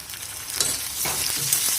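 Chopped tomato and slit green chilies sizzle and fry with ginger and garlic in a pan for a dal and flat bean dish, a steady close crackle broken by a few scraping stirs, with no talking.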